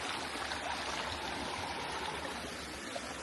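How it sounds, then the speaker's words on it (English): Continuous rushing of running water from a nearby stream on Mount Hallasan, Jeju Island, South Korea, a steady hiss and burble with no voices. "It's quite nice to hear the sound of running water."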